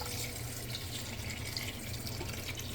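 Liquid poured into a pot while making oyster artichoke soup, a steady splashing, trickling pour that runs continuously and fairly close for a few seconds with no talk.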